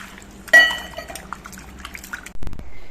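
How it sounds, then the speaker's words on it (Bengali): Two cut potatoes being rinsed in a bowl of water, with clinks and sloshing splashes, then a louder splash near the end. "দুটো আলু কেটে নেওয়া হয়ে গেছে এবার আলুগুলো ধুয়ে নিচ্ছি"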